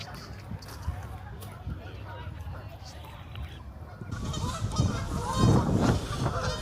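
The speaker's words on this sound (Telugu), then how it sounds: "ఇక్కడంతా బాతులు అన్నీ స్వాన్స్ టక్స్ అన్నీ ఉన్నాయి" Ducks, geese and swans at a park pond where visitors feed them, honking repeatedly and growing louder and busier toward the end, with people talking nearby.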